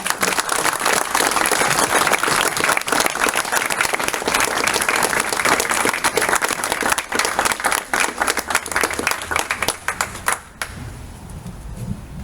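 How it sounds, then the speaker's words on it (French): Audience applause at an exhibition event honoring people, dense, loud clapping sustained for about ten seconds, then thinning to a few scattered claps and room noise. "Ce sont eux que je vous demande d'applaudir maintenant"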